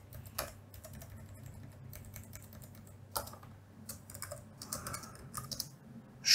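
Quiet typing on a computer keyboard: irregular, close clicks and taps with short pauses between bursts, heard on their own.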